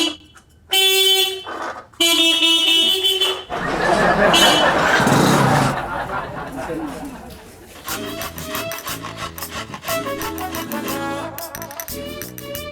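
Several loud car horn honks blare in short bursts on a street, followed by busy overlapping tones and chatter.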